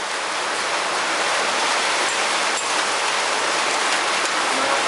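Steady, dense rainfall pattering on surfaces, a loud continuous hiss with no pauses.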